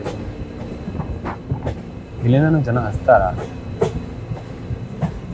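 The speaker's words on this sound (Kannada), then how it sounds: "ಶಿರಬಾಗಿಲು ರೈಲ್ವೆ ಸ್ಟೇಷನ್" Train rolling past Shirabagilu railway station on the Sakleshpur–Subramanya route, rhythmic wheel clatter with a brief metallic squeal near the middle, heard close while a person speaks.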